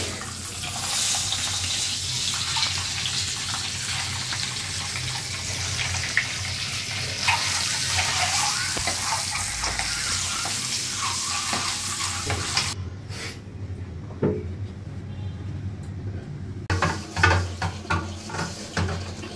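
Dishes and bowls are washed under a running tap, with a steady rush of water and scattered clinks and scrapes, loud and close, easing into sparser splashes near the end.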